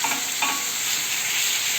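Beef sizzles loudly in a pan as it is sautéed for a Moroccan beef tagine, with a steady frying hiss and a couple of soft scrapes from stirring.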